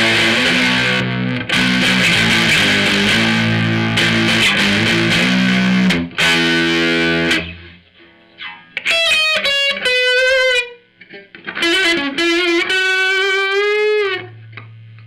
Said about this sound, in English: This is the Marshall sound here.